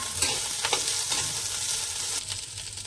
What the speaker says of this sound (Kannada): ಇವಾಗ ಕೊಬ್ಬರಿ, ಕಾಯಿ, ಬೆಳ್ಳುಳ್ಳಿ, ಕೊತ್ತಂಬರಿ ಸೊಪ್ಪು ಸಹ ಹುರ್ಕೋತಾ ಇದ್ದಾರೆ